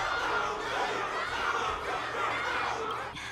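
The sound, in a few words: crowd cheering in video game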